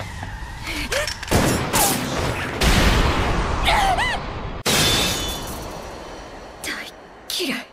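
A revolver fires in an anime fight scene, a few sharp loud blasts set among whooshes, impacts and dramatic effects, with a voice speaking between them.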